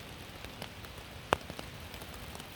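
Steady rain falls through the night on a solo hike at Pictured Rocks in 44-degree weather, a soft constant patter with scattered louder drops striking a nearby surface.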